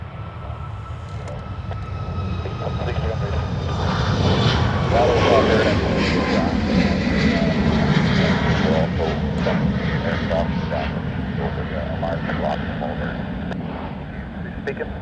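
A Ryanair airliner departs Dublin Airport, its jet engine roar swelling to a loud, steady broadband rumble that holds throughout and eases slightly toward the end, with wind noise on the microphone.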